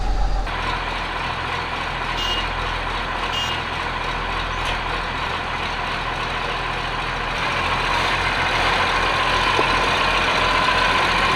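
A tractor engine runs steadily on a farm at the start of a cultivation season in freezing weather, giving a loud continuous low rumble, with a brief high beeping near the start and a slight rise in intensity toward the end.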